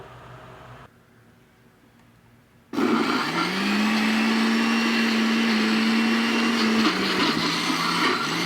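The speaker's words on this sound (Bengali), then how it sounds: "এখন আমি ব্লেন্ডার করব" A blender whirs as it grinds a black cumin paste with mustard oil: a quiet stretch, then a sudden loud steady motor drone that runs to the end with a slight pitch dip.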